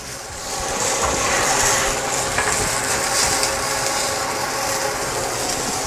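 Tomatoes char and sizzle over heat, giving a loud, steady crackling hiss with small pops and scraping, no voices.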